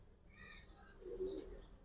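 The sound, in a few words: male pigeon cooing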